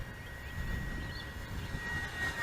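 An Avios Hawker Sea Fury 1200mm electric RC warbird drones through the air on its maiden flight, a faint, steady motor and propeller hum heard from a distance under wind noise.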